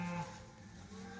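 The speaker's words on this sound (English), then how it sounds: "Just a beautiful morning to be a cow" A cow moos on a foggy morning on grazing land, a single long low call that fades into a sustained lowing, fairly near and clear with faint outdoor ambience and no talk.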